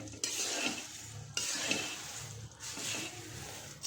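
Dry papad poha with crumbled papad gets tossed and stirred in a pan, giving brisk crisp rustling scrapes in several short strokes, close up and alone.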